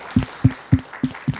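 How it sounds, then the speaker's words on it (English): A handful of sharp, separate hand claps spaced evenly, about five in quick succession, close and fairly loud, from a sparse audience thanking presenters at an art talk. "I'd like to give another round of applause to all the presenters"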